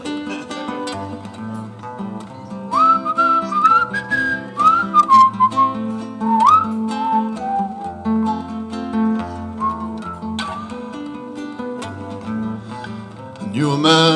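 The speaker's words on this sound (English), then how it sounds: "He could even whistle, so I'm going to attempt it." A man whistles a melody solo, a clear, wavering tune with sliding notes over a soft low accompaniment. It is close and carries throughout, swelling at the end.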